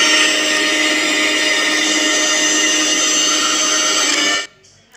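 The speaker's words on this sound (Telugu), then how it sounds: "మిక్సీ సౌండ్ తప్ప నా వాయిస్ ఏమి వినిపించుండదు మీకు" A kitchen mixer grinder (mixie) runs loud and steady with a dense whirring drone, then cuts off abruptly near the end, leaving quiet background.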